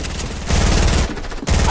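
Rapid video game gunfire aimed at the player, a loud continuous volley of overlapping shots with a brief dip near the end, no voices over it.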